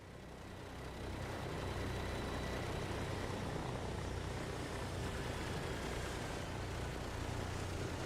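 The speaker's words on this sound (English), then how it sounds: "Engine seems to be warming up, so we'll bring the power back just a little bit." Douglas DC-3 engine from Microsoft Flight Simulator idling while warming up, a steady droning rumble that swells slightly after the first second and then holds constant and loud.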